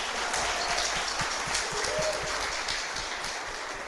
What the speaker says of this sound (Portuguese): Dá um aplauso por a vida deles.